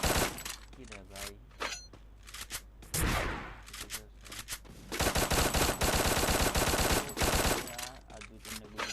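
Rapid automatic gunfire from the Free Fire video game, loud bursts of shots in several volleys with short pauses, alone without talk.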